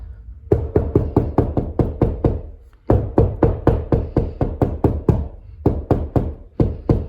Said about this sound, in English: Sometimes you can take on your sheetrock and knock.